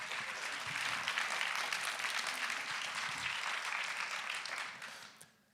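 An audience at an equality festival talk applauds with steady, dense clapping that holds at moderate loudness for about five seconds, then fades out quickly at the end.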